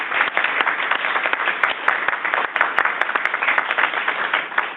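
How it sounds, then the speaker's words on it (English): A meeting audience of a school district committee bursts into steady, dense applause, many hands clapping together at a fairly close, even level for a few seconds. "let's give the Welty Environmental Center a round of applause for that"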